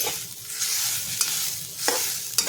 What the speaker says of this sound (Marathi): तर बघा असा फ्राय करत राहायचं त्याला कोरडा होईपर्यंत